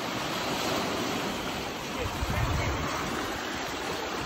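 Lake waves washing onto a shore in Wisconsin, a continuous broad rushing wash with a slightly stronger surge midway, heard close with some wind buffeting the microphone.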